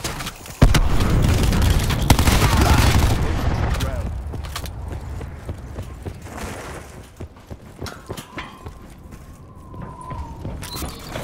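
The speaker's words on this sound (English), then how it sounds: "Cluster grenade going out." Cluster grenade detonating in Black Ops 4, a sharp blast followed by a rapid chain of explosions and crackling bursts that fade into scattered distant gunfire and battle noise.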